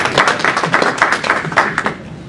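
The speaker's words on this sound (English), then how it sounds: "I like that the code got applause before the guy got applause." Scattered audience clapping at a Python programming talk, a loose burst of individual hand claps that rise and thin out over a couple of seconds, fairly close and loud.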